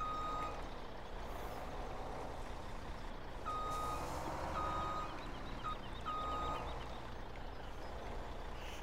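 A truck in Farming Simulator 17 backs up with a steady series of high reversing beeps over a loud, continuous engine rumble and hiss, the beeps repeating evenly throughout with no talking.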